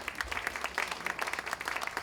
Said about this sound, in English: Clap for them.